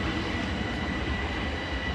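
A Hastings service electric train with unit 375611 on the rear passes through Tonbridge station, a loud, steady, close rumble of wheels and rolling stock with no speech.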